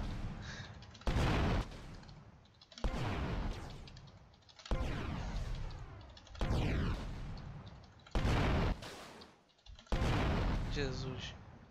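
Explosions and bursts of gunfire in the video game GTA Vice City, six loud booming blasts roughly every one and a half seconds, each decaying into rumble, with a voice audible between them.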